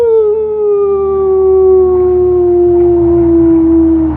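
A person imitates a wolf with one long, loud, sustained howl that slowly falls in pitch, close to the listener and heard alone.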